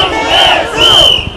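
A loud crowd at an outdoor election campaign rally in Jincheon-Eumseong, Chungbuk, shouts the candidate Kyung Dae-soo's name in unison, two surging chant bursts in quick succession.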